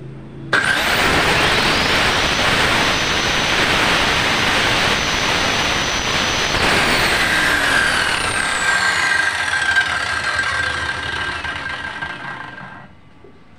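Hasston ART3120-00 circular saw run free for an RPM check, a loud high whine that starts abruptly, holds steady for about twelve seconds, then winds down as the blade spins to a stop.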